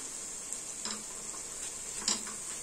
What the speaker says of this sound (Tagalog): habang nagpa-fry tayo nitong onion